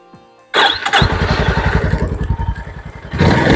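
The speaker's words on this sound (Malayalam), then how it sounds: "അപ്പോൾ വണ്ടിയുടെ സൗണ്ട് ജസ്റ്റ് ഒന്ന് കേൾപ്പിച്ചു തരാം" Honda CB350 2024 motorcycle starts with a short cranking clatter, then settles into a loud, close single-cylinder thump with a steady rhythmic pulse, which builds briefly into a louder rev near the end.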